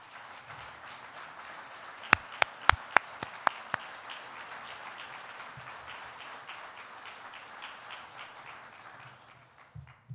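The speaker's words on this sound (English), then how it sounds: "I'd like all the members of the Department of Economic Development to stand so we can give you a round of applause" A roomful of people at an economic development event clapping for the department staff, steady applause with a few louder nearby claps standing out early on, continuing for about ten seconds.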